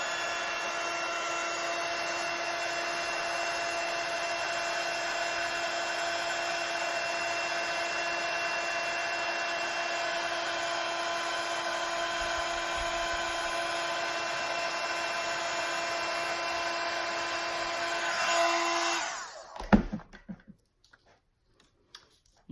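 A dual-speed WOW heat tool melting embossing powder gives a steady, whining hum that runs on evenly for about nineteen seconds, then cuts off, leaving a few faint clicks and handling noises.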